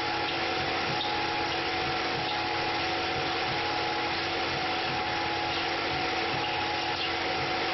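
Constant high whine of a Tormach PCNC 1100 CNC mill spindle at its maximum 5140 RPM with a steady hiss, drilling a quarter-inch hole, unchanging throughout with no voices.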